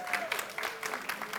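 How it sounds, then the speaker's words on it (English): Audience applause at a software conference talk in Ukraine, a patchy scattering of claps rising and falling over a short stretch, with voices calling out among them. "Come on, give me claps for the R2D2 hills."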